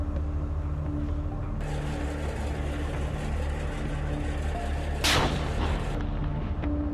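Tank cannon fire in a mechanized battle game, a single sharp blast rising over a steady rumble of engines and distant combat noise.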